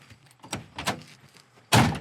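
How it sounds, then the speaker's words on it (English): Doors on a 1961 Chevrolet Impala Bubble Top being opened and shut, giving a few soft latch clicks followed by one loud, close door slam at the end. "Doors open and close great."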